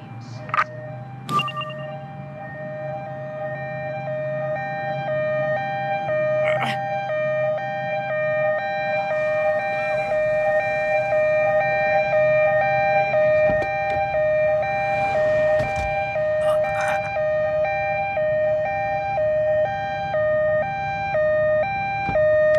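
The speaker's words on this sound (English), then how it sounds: "An ambulance has been dispatched to your current location." An ambulance siren in a police simulator video game wails steadily and loudly, with sustained stacked tones and brief sharp clicks and bursts of game noise over it.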